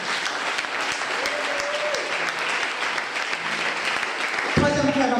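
A church congregation at a French-speaking retreat applauds in praise, a sustained wash of clapping throughout with a voice speaking over it and a louder burst near the end.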